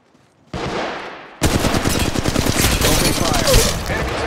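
Rapid automatic gunfire from the Apex Legends Mobile shooter game on Android, a loud, dense stream of shots that breaks in suddenly after a brief burst and runs on without pause.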